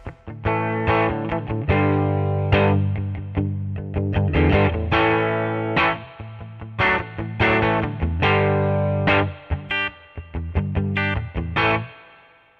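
Electric guitar through a boosted, overdriven amp via a HeadRush pedalboard effects loop plays a series of chords and ringing notes, bright and saturated with sustain, no voices.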